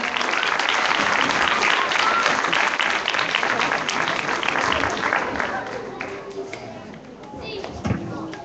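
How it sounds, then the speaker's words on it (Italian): Audience at a children's stage show of Snow White applauding steadily, a dense, loud wash of clapping that holds for several seconds and then thins toward the end, with a few thumps near the close. "Un applauso a Siria Rosa"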